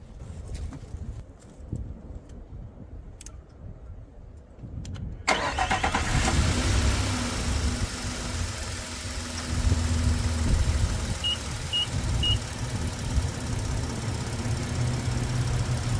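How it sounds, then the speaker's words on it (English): A car starts with a sudden crank about a third of the way in, then settles into a steady idle with a constant low rumble after a quiet stretch. "So let's start the vehicle up."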